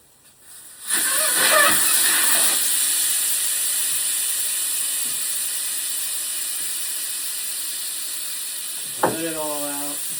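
Air rushing out of an ATV tire through the open valve stem: a loud, sharp hiss that starts abruptly and holds steady for several seconds, with a brief voice breaking in near the end.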